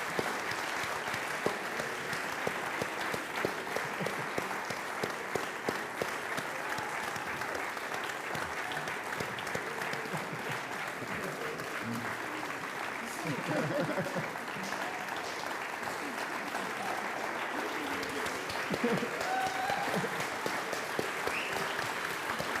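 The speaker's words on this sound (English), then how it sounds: "they all deserve a round of applause and some recognition for the amazing work they've done" Sustained applause from an audience at a launch event for the Treesistance Amazon protection team, dense steady clapping holding at an even level for over twenty seconds with a slight swell near the end.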